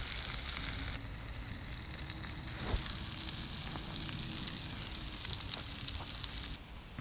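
Food sizzles steadily on a Trangia spirit stove sheltered inside a Bushbox XL windbreak outdoors, a soft continuous frying hiss with faint crackles and a brief shift in tone near the end.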